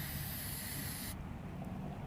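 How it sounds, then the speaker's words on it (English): Cleaner sprays in a steady close hiss into the can of a Traxxas Velineon brushless RC motor during a rebuild, then cuts off abruptly partway through, leaving a quieter low background. "So you just sort of spray it down, get the crud from the inside out."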